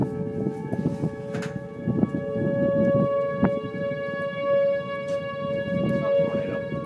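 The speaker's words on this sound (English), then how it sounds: "And our sirens just went off." Tornado warning sirens wail in the distance during Oklahoma's tornado season, a steady tonal drone under people talking nearby and wind noise.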